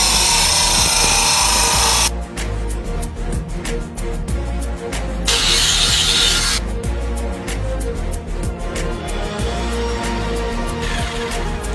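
Cutting and polishing a natural landscape painting stone with a power tool gives a loud, steady grinding whine with harsh bursts, cutting in and out across the span.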